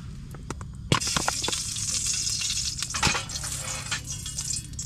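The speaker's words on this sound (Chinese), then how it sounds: "直接开火，准备煎鱼啊！" Hot oil sizzles and spatters in an iron pan, ready to fry fish, outdoors at a winter campsite at minus 18 degrees. A steady close hiss starts abruptly and carries scattered sharp crackles and pops throughout.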